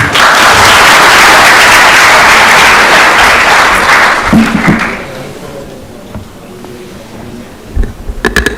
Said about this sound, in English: Please welcome him to the stage with a warm applause.